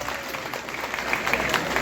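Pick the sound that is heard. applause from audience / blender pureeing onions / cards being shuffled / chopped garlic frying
applause from audience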